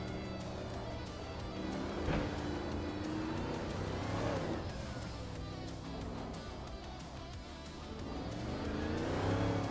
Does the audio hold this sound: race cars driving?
yes